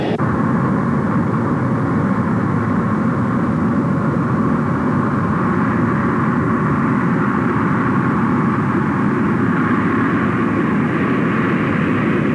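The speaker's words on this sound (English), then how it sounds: "to see what procedures pilots followed to minimize jet noise" An American Airlines jet airliner takes off and climbs from Idlewild airport in 1962, heard from inside the cabin as a loud, steady, broadband engine roar and rush that holds throughout without speech.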